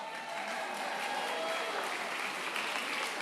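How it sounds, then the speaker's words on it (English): A crowd at a district debate event claps continuously, a steady dense wash of applause at moderate loudness throughout. "Let's give a round of applause to Josh."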